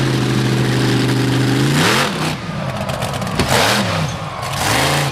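Stomper, a monster truck driven by Macy Nichter at a Monster Nationals track event in Sturgis, revs its big engine loudly, pitch climbing and dropping through several surges and bursts, close and without talk.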